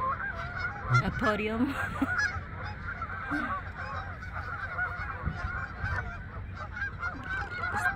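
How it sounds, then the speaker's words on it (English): A flock of migrating Canada geese honks repeatedly outdoors, overlapping calls at moderate distance, with brief talk mixed in. "They're Canadian geese."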